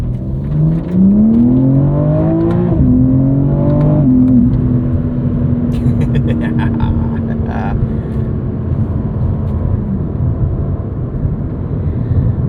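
A 2023 BMW M4 CSL engine heard from inside the cabin while driving, loud and droning, with rising pitch sweeps through the gears early on before settling into a steady cruising hum, with some faint clicks partway through.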